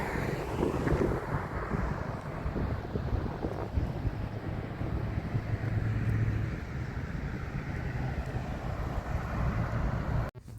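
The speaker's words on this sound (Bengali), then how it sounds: "এদিকে এলে তো গাড়ির শব্দে কানই পাতা যাচ্ছে না" Road traffic passing near Bolsa Chica State Beach in California at dusk, a continuous loud roar of vehicles mixed with wind buffeting the microphone, cutting off abruptly at the end.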